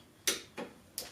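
Three crisp clicks from a torque wrench set to 22 foot-pounds as a bolt on the differential cover of a fourth-generation Camaro/Firebird is tightened, spaced unevenly and close by with a quiet background.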